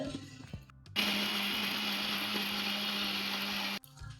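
A kitchen blender whirs steadily for about three seconds as it purees peeled small bananas into a smooth paste, with a sudden start and a sharp cutoff, close and loud, no voices over the motor.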